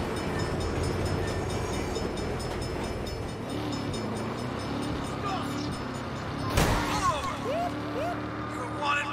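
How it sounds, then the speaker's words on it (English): A train rumbles past in the Saints Row game, a steady low roar of rolling wheels with a sharp clank partway through, under busy city action and occasional voices. "Bad time for a train."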